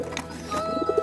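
Pigeons in a home loft give short, soft coos close by. A few rounded calls come in quick succession near the end over a low background hum.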